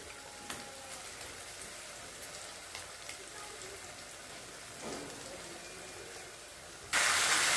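Tomato puree hits a pan of cooked spices and sizzles, a soft steady hissing crackle at low level, ending with a sudden loud burst of spattering.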